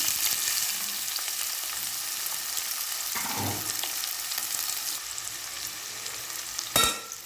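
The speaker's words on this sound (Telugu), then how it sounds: "నూనె కాగిపోయింది ఉల్లిపాయలు వేసుకుంటాం" Onions dropped into hot oil for a fish dish, a steady bright sizzle filling the pan, with a stirring scrape partway through and a sharp clatter near the end, close and continuous.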